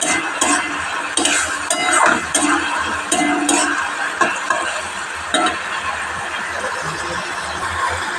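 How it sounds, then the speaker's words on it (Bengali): Curry being stirred and fried in oil in a pan, with steady sizzling under repeated scraping and clinking strokes of a spoon against the metal, close and fairly loud throughout. "যতক্ষণ না আমার ধারে ধারে তেল বেরোচ্ছে, ততক্ষণ আমি এটা কষিয়ে নেব।"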